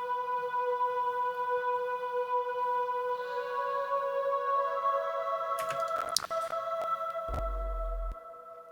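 A Farlight Passionate Choir synth preset run through a Cathedral 2 reverb sustains a steady, layered choral chord. It is joined near the end by brief percussive hits and a low thump, with no talking.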